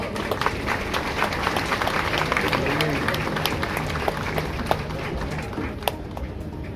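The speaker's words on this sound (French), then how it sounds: "Vos applaudissements." Spectators applaud at a police academy graduation ceremony, a dense, sustained patter of clapping over a busy crowd murmur, with sharper individual claps popping out near the end.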